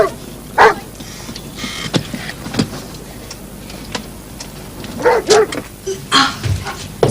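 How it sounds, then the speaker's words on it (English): A guard dog barks in several sharp, loud bursts: one early, a few scattered single barks, then a quicker cluster near the end, over a low steady background hum. "he's a guard dog."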